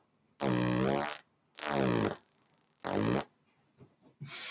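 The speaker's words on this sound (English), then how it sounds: "It does fart sounds." A DIY analog synthesizer filter module produces three loud, buzzy fart-like blasts, each around a second long with sweeping harmonics, separated by brief quiet gaps, followed by softer sputters.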